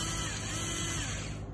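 A power tool whirs continuously to loosen hex bolts on a Sur Ron electric dirt bike mounting bracket, giving a loud, steady, high mechanical whine that tapers off at the end.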